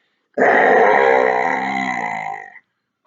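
A human voice imitates a scary growl, one long, loud, throaty rumble lasting about two seconds that starts abruptly and fades away into silence.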